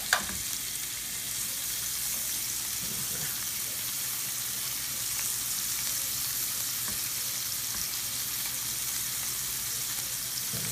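Shrimp fry in a pan for garlic lemon linguine with a steady, close, even sizzle that holds throughout, after a single sharp tap at the start.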